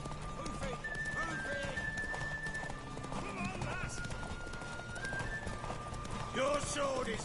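A horse in The Witcher 3 snorts and whinnies amid steady clip-clop of hooves, with game ambience and faint talk mixed in; a louder neigh rises near the end.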